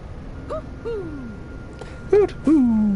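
Owl hooting in the video game Tales of Arise, several short tonal hoots scattered across the moment and growing louder toward the end, with faint speech-like sounds around them.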